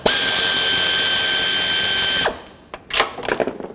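A ratchet spins in a loud, dense whirring burst for about two seconds, loosening a 13mm nut on the A/C line of a 2007-2010 Chrysler Sebring, then cuts off into a few softer clicks and handling noises.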